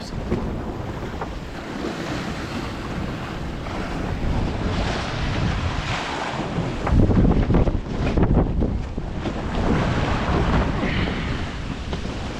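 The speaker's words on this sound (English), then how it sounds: "This is insane. We're getting breakers." Breaking ocean waves surge and crash around a sailboat under strong wind ahead of an oncoming gale, with heavy wind buffeting the microphone in a continuous loud roar.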